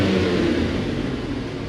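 A Mercedes C43 AMG engine idles and revs with the exhaust closed, a steady, muffled low rumble, fairly loud and close, with no one talking.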